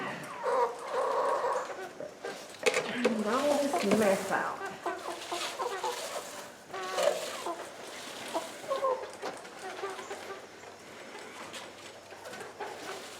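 Hens cluck and fuss inside a backyard chicken coop with a half-inch hardware-cloth floor, their calls scattered and fairly close under a person talking throughout.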